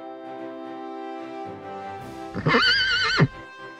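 A horse gives a single loud whinny that rises and wavers for about a second near the end, preceded by quieter low snorts and breathy sounds, with no talking.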